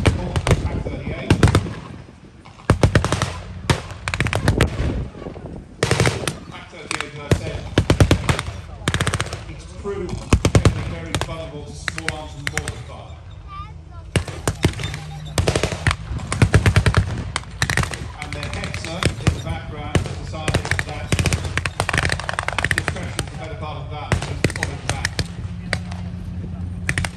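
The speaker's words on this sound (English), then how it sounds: "They are returning fire." Battle reenactment gunfire at TankFest 2022, with dense bursts of machine-gun and rifle shots, sharp cracks and rattling volleys, some near and some distant, and an announcer talking over the firing throughout.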